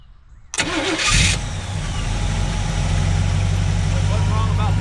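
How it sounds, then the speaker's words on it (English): A 1968 Chevelle Nomad custom cranks briefly and fires, then settles into a loud, steady idle with a deep rumble, heard close up with a voice talking over it. "Give it 2 pumps and it'll crank right up."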